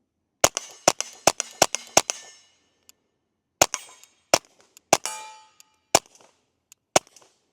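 Ruger MKIV 22/45 Lite pistol firing: a rapid string of five sharp, loud cracks with short ringing tails, then after a pause several more spaced single shots, each crisp and close.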